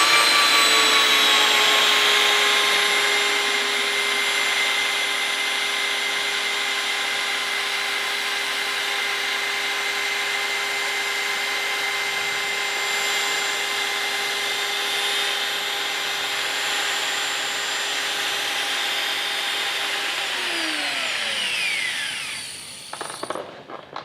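A power polisher running at speed setting 4.5 while buffing a faded, yellowed, oxidized headlight gives a steady, loud high whine for about twenty seconds, then spins down and stops with a few faint knocks.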